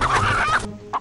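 A fighting rooster at a Filipino cockfight gives a loud, strained crowing call for most of the second, then a brief sharp squawk after a short pause.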